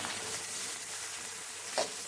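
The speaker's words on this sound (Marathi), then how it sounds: "आता आपण ही धुतलेली कोथिंबीर छान अशी कढाईमध्ये परतून घेत आहोत" Washed coriander leaves sautéed in a kadhai give a steady soft sizzle and frying hiss, with one brief louder stir or clink near the end and no talking.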